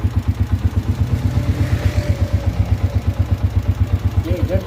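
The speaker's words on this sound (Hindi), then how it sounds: "ये इंजन का साउंड है दोस्तों" A Honda CG125 motorcycle engine idles close by, its loose tappets adding a quick, even ticking over the steady thumping beat of the single cylinder.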